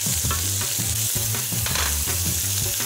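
Fried potatoes, green beans, carrots and peas with spices being stirred in a hot pan, a loud steady sizzle broken by rhythmic scraping strokes of a utensil across the bottom.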